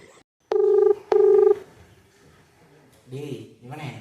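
Two loud telephone dialing tones sound in quick succession, each lasting under half a second, followed by a quiet gap and then a person talking.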